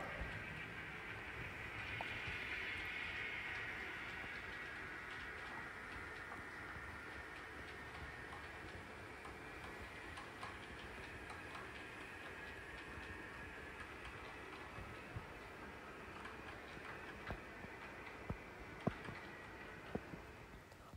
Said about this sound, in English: we see here the first westbound train crossing the bridge